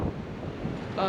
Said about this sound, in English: Sorry about the wind, it's a little windy today